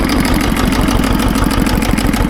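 A tractor's diesel engine runs steadily just after a cold start in frost, a loud, close, continuous rough idle with a rapid knocking pulse and no voices.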